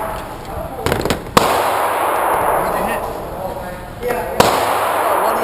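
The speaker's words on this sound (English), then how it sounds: "You wanna keep shooting them?" Pistol shots at an outdoor shooting range: two sharp, loud cracks a few seconds apart over steady wind and ambient noise.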